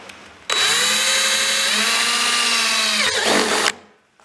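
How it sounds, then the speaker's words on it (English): A jigsaw cutting into a plastic barrel, one loud continuous high-pitched buzzing whine lasting about three seconds, dipping briefly near the end before stopping abruptly, with no speech. "So I'm going to use a jigsaw."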